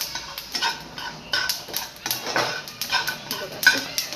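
Sesame seeds roasting in a pan are stirred with a utensil, giving irregular scraping and clinking strokes over a faint crackle, close and fairly quiet.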